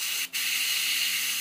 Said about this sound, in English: You can just spray a little bit on your thumb to see